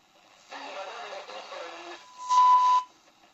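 A faint medium wave radio broadcast of talk on a modified SELGA-404 receiver comes through tinny and band-limited, followed by a brief steady tone burst before fading to quiet.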